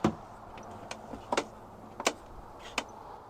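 A worn door check bracket on a 2021 Ford Escape rental with 50,000 miles, clicking and clunking as the door swings, several short sharp ticks spaced irregularly, close up and fairly quiet.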